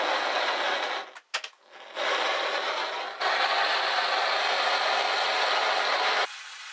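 Torch flame roaring as it heats the elbow of a moped exhaust pipe, a loud steady hiss that briefly cuts out and sputters, then resumes stronger before dropping near the end.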